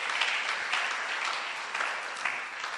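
A church congregation applauds steadily throughout, a dense, sustained clatter of many hands clapping at close range with no pauses and no talk on top.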